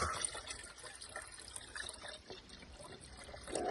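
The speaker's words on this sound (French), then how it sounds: "Vous mettez dans votre arrosoir." Water trickles and pours steadily into a watering can for diluting a solution for tomato plants, a continuous close liquid splashing without speech.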